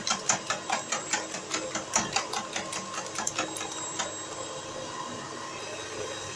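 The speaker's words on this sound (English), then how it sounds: "you can see I'm whisking the egg. I'll whisk this egg until it becomes foamy." Egg being whisked until foamy for a vanilla cake: quick, regular clicking taps of the whisk against the bowl, close by, steady for several seconds before trailing off into a quieter hiss.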